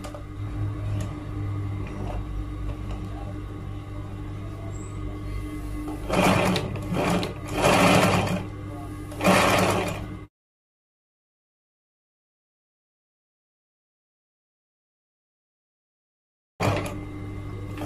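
A sewing machine stitching trousers for a Malay baju melayu outfit runs in a steady mechanical whir with bursts of faster stitching, then stops abruptly into silence before briefly starting again.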